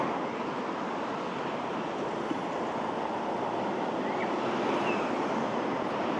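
River water rushing under a pedestrian bridge in Ortisei (St. Ulrich), Italy, a steady broadband roar that stays loud and unbroken throughout, with no voices.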